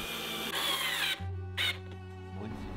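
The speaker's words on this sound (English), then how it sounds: "A hole is pierced through, so the screws can be drilled in more precisely." A power drill drives screws into a wooden picture frame, its high whine running steadily, then cutting off and restarting in shorter bursts, close and clear with no talking.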